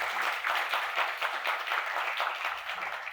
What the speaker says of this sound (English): May we have a big round of applause to our speaker.